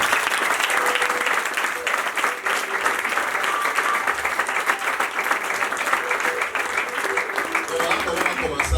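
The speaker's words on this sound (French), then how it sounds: "j'aimerais que tu acclames pour le Seigneur" A church congregation at a Sunday service breaks into sustained, dense applause, many hands clapping continuously at a steady level, with voices faintly mixed into the crowd.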